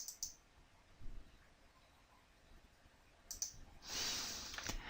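Computer mouse clicks in a quiet room: a couple of sharp clicks near the start, then a rapid double click around the middle and a brief scuffing of the mouse, all close and fairly soft.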